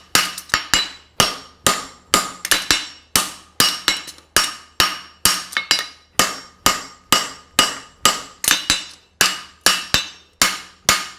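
Steel being hand-forged into a French Hind horseshoe, the web thinned with a hammer: sharp ringing blows in quick rhythmic bursts of two or three, each decaying before the next, close and clear with no talk.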